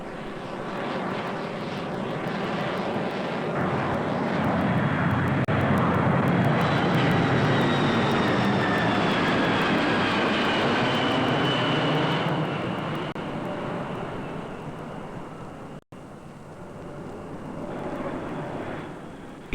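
Jet airplane engine roar near an airport, a loud sustained rush that swells to a peak mid-pass and then slowly fades as the aircraft moves away, with no voices.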